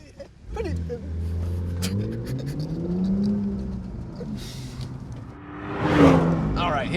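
A 2018 BMW M2 engine revs hard and climbs in pitch while the car drifts, then swells into a louder burst near the end; engine noise runs steadily throughout.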